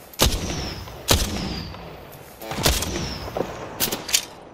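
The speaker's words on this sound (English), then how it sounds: "They're shooting at me." Gunfire from enemies in the Apex Legends battle royale shooter, heard as four loud sharp blasts spread over a few seconds with booming low-end tails, irregularly spaced, with in-game tones between shots and no talking.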